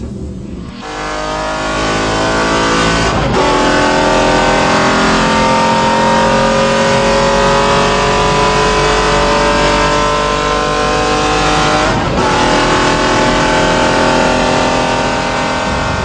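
A BMW X5 V12 Le Mans with a 700 hp engine accelerates at full throttle, its loud, continuous engine roar climbing in pitch through long gears with two brief dips at the shifts, heard close and alone.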